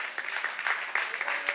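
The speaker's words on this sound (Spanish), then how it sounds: "Dale un aplauso al Señor." Church congregation applauding during a Spanish-language worship service, a brief patch of scattered clapping at moderate distance, fairly faint, with voices mixed underneath.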